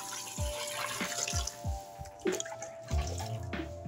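Water poured over plant leaves in a container to make fertilizer: a continuous splashing, trickling stream with intermittent gurgles and drips, close by and moderately loud.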